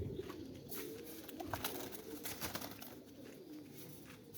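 Loft pigeons, including a male, coo in low, rolling murmurs that run steadily under a hissy, noisy background. The sound is faint and continuous, with no talking.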